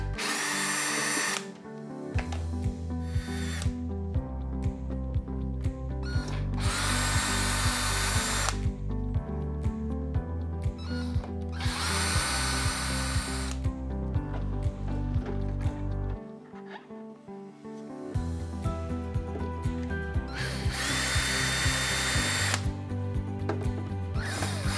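A power drill backs the screws out of the lid of an Air Venturi Nomad II air rifle compressor, sounding in repeated whirring bursts of several seconds each, separated by short pauses, close and steady.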